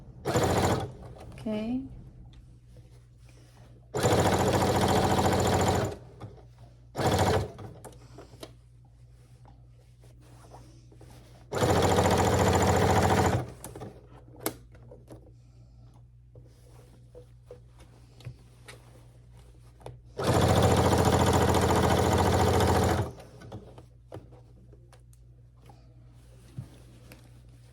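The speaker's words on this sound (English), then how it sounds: "let's do it. Just a little back stitch." A sewing machine stitches a market tote bag in short loud bursts, about four runs of a few seconds each with quiet pauses between, while someone talks softly in the gaps.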